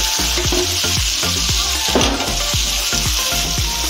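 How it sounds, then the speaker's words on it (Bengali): Amla pickle stirred in hot spiced oil with ground coriander gives a loud, close sizzle, broken by a regular run of scraping spoon strokes against the pan about twice a second. No one speaks. "এবার সমস্ত আমলকিগুলো নাড়বো।"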